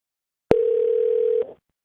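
A steady telephone dial tone hums alone for about a second, starting abruptly and cutting off just before a call to Chris is answered on a live show.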